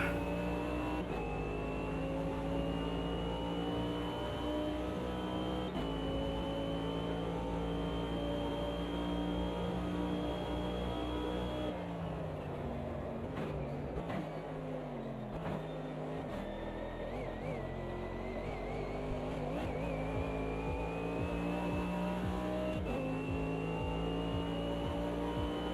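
Race car engines in Automobilista 2 hold a loud, continuous drone, rising through long revving pulls and cut by several sharp gear changes. A busier stretch midway adds other cars nearby.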